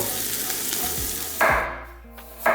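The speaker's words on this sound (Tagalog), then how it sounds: "Igisa naman natin yung mga gulay. Carrot. Mabilisang gisa lang to." Sliced carrots and vegetables stir-fried in a pan with a little oil, giving steady close sizzling with scraping stirs and two louder bursts of frying.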